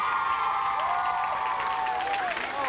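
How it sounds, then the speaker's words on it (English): Audience applause and cheering at a live game-show taping, a dense, steady wash of clapping with whoops and a host's voice calling out over the crowd throughout. "A big round of applause, you guys."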